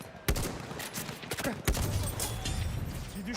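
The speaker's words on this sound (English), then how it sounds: "I don't know why that guy's shooting a shotgun at me from all the way over there." Gunfire in a Battlefield 1 match, with shotgun blasts among it: sharp, booming reports cracking over a busy backdrop of battle noise, with two standout shots and a continuous din of distant firing.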